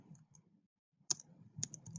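A few faint, scattered keystrokes on a computer keyboard while an announcement is typed into an online class page. The clicks sound quiet and close against a low background murmur.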